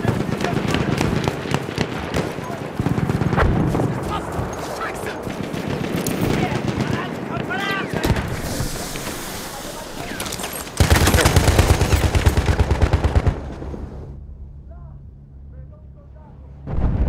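Rapid machine gun fire and explosions in the video game Battlefield 1, dense bursts of shots and booms through most of the clip, ending in quieter rumbling, with talk over the top.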